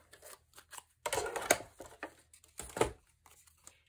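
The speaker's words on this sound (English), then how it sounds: "take this doily and line it up on your cutter" A paper trimmer slices a paper doily in half on a crafting table, giving a few short crisp cutting and rustling strokes with brief pauses between them, close and fairly quiet, with no talking.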